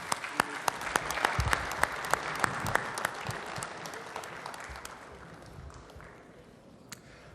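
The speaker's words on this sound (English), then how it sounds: "let's give a standing applause for these two heroes" An audience at a youth football tournament draw event gives a standing ovation, with dense clapping from many hands that swells and then gradually fades over several seconds, heard from within the hall.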